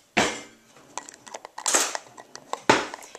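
Container of homemade dishwasher detergent mixture of vinegar, soap and warm water being shaken, giving several sharp, close sloshing rattles separated by quieter rustling handling noises.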